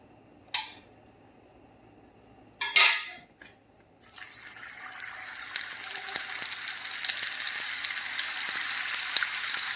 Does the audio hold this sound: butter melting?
yes